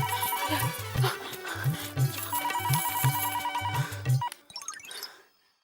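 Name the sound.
telephone ringtone ringing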